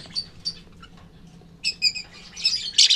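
African lovebird parents calling inside a nest box: shrill, high chirps and squawks in short bursts, close and loud, growing busier and more intense toward the end.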